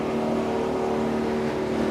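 Dale Earnhardt Jr.'s race car engine running in a garage, a loud, steady, droning roar that fills the space continuously.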